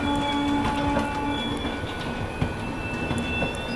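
The Prayagraj Express rolls past on the rails in fog, a steady wash of train rumble with faint wheel clatter and a brief squeal, no voices.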